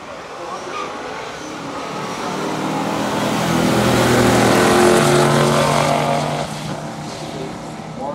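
Roaring engines of a stock 1970 GTO and 1970 Torino Super Cobra Jet drag racing build in volume as they accelerate past, a loud rumbling growl that peaks and then fades slightly, with a voice talking over it.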